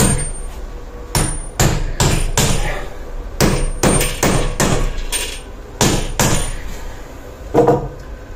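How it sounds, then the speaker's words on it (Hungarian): A series of about a dozen light hammer blows setting a gate hinge strap in place on a post, sharp close taps in an uneven rhythm with short pauses between them and no talk. "finom ütésekkel rögzítem a helyét"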